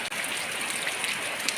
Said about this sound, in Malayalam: നല്ല മഴ പറഞ്ഞാൽ നല്ല മഴ